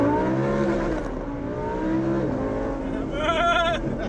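A car drives on a road in Romania, its engine a steady drone that shifts pitch as it revs, with a brief higher whining tone near the end.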